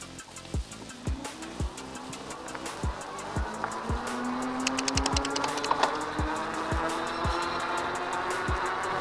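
Bee Cool Pathfinder fat e-bike pulls away in first gear on pedal assist level 5 with a rising electric motor whine over rhythmic ticking from the drivetrain, plus rushing wind as it gains speed, close to the rider.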